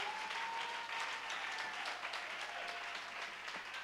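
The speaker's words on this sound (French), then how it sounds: "Est-ce que tu peux acclamer une fois pour Jésus?" A church congregation applauds and cheers for Jesus, a dense, steady wash of clapping filling the room at even loudness throughout, with no clear gaps.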